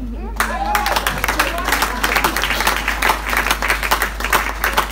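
Guests at a wedding break into sustained clapping, a dense, steady patter close by that keeps going for several seconds with voices chattering underneath.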